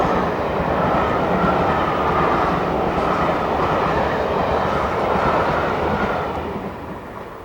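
Preserved Class 50 locomotive 50050 hauling the Orient Express on a Southampton Docks working, a steady loud rumble and roar of train running at speed that fades slightly toward the end.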